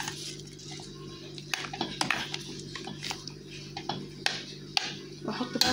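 A utensil stirs garlic and onion in a pot close by, with irregular metallic clinks and soft scraping over a faint background hum.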